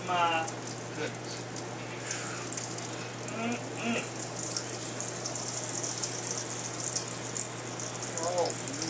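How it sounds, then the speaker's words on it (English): Homemade seafood soup poured into a bowl, a soft continuous liquid gush with faint splashing under steady background hiss, near and moderately quiet throughout. "Pour you a bowl."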